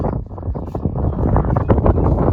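Wind gusts rumble against the microphone in a continuous, close, muffled roar with some rustling.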